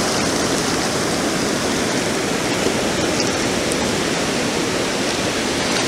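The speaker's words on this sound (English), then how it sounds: "Got a lot of water all of a sudden." Ocean water surges across a beach where someone is metal detecting, a dense, steady rushing wash of surf that stays loud and close without pause, with no talking.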